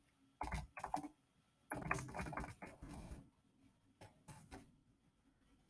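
Someone types simple C code on a computer keyboard, with quiet bursts of key clicks separated by short pauses, close by and soft, no talking.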